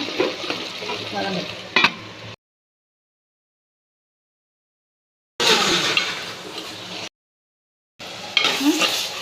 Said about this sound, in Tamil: நல்லா தக்காளி வெங்காயம் எல்லாமே வதங்கிருச்சு